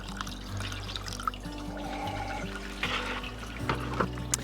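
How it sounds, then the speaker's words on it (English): Water being poured from a container into a lawn treatment mix, a continuous bubbling, trickling flow with occasional sloshes, close and moderately loud with no talking. "the cool thing about getting the other half of water in is that you can help mix it"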